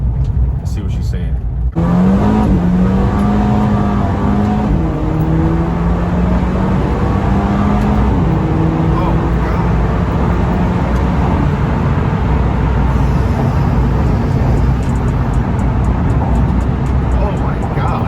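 A Volkswagen GTI track car stripped of its door panels accelerates hard, its engine droning loud and close and climbing in pitch through several gear changes, with a person talking over it.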